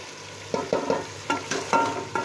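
Chicken korma meat fries with salt and chili while a spoon scrapes and turns it, making a close sizzle broken by several distinct stirring scrapes in quick succession.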